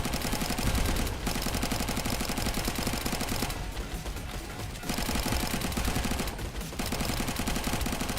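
A light turret in the video game Sentinel fires continuously in dense, rapid rattling volleys, loud and close, with a couple of brief breaks in the stream of shots.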